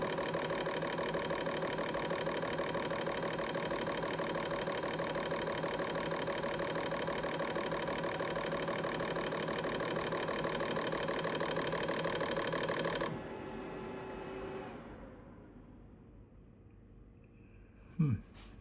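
A GM L67 supercharged V6 idles steadily during a fuel injector flow test, a close, even hum that cuts off abruptly near the end, leaving a faint fading tail and one brief knock.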